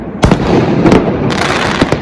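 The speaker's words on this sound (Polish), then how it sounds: "źródłem tego lęku jest przede wszystkim dźwięk, jaki towarzyszy wybuchowi sztucznych ogni" New Year's Eve fireworks go off in loud, close bursts: a heavy bang, then a cluster of cracks and a crackling tail, with another few pops near the end.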